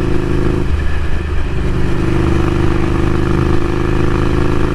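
A Ducati Scrambler Café Racer fitted with a Vance & Hines exhaust idles loud and close, a steady deep throbbing rumble with slight revving swells and no talk.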